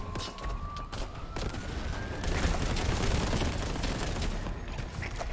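Gunfire and grenade blasts in the retro shooter game Boltgun, a loud dense unbroken wash of rapid shots and explosions with no clear gaps.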